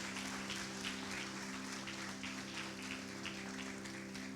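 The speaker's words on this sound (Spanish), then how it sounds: "Demos un aplauso al Pastor Máximo de honra en este domingo" A church congregation applauds together on a Sunday morning, a steady, even wash of clapping held at a moderate, somewhat distant level for a few seconds, with a faint low hum running beneath it.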